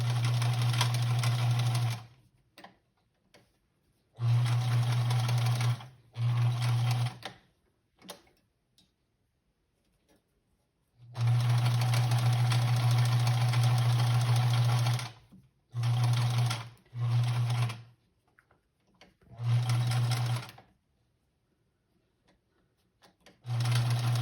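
A sewing machine stitches fabric for an Easter bunny in repeated bursts of fast whirring, with short pauses between runs while the material is turned at corners. It sounds close and steady.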